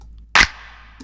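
One loud, layered snare hit made of stacked finger snaps and a clap sounds alone, with a sharp crack and a short, splayed tail.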